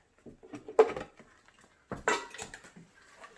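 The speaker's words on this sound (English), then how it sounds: "you can use your measuring cup to start adding your soaked newspaper into the blender" Soaked newspaper is scooped with a measuring cup into a blender for papermaking, giving two soft, wet, splashing plops with quiet gaps between them.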